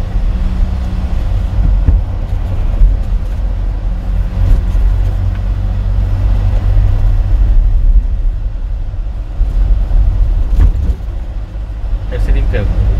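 A car engine runs during a driving lesson, a loud continuous low rumble with road noise that barely rises as the accelerator is pressed, and people talk over it.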